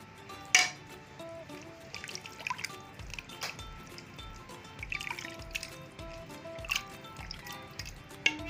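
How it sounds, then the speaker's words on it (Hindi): Water, a little over half a glass, is poured over beef in a bowl for parda biryani, producing soft, close trickling, splashing and dripping that continues steadily without speech. "अब मैं गोश्त में पानी ऐड करूंगी तकरीबन आधा गिलास से थोड़ा ज़्यादा।"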